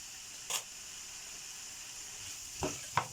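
Chicken filling fries in a pan with sauce while it is stirred. A steady, low sizzle hisses throughout, broken by a few brief scrapes and clicks of the spoon.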